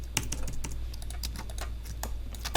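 Computer keys are pressed in an Illustrator session, Alt held with the up arrow tapped, giving a steady run of close, light clicks over a constant low hum, with no talk.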